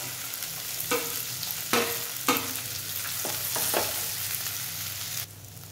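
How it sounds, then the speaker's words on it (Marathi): Masala-stuffed okra frying in a hot tempering of oil and curry leaves, with a constant bright sizzle broken by several sharp scraping stirs of a spatula in the pan, close and with no voices. "आपण या ज्या भेंडी सगळ्या भरून घेतलेल्या आहेत त्या आपण या फोडणीमध्ये टाकून घेणार आहोत आणि परतून घेणार आहोत"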